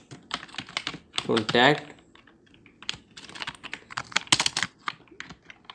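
Fingers patter on a computer keyboard in quick irregular bursts while web page code is written, with someone talking over the clicking.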